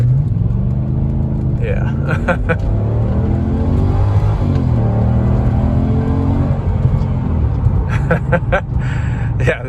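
A Mercedes C43 AMG blasts off in first gear with its tires spinning, a loud steady engine roar under brief shifts, as someone says a word near the end.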